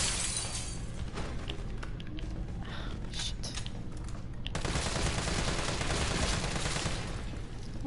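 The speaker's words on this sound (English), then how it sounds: "Oh, they're going to break through that glass." Glass breaks during a tense encounter in the video game Resident Evil 3, a bright crashing shatter over a dense, steady roar of game noise that carries on after the break.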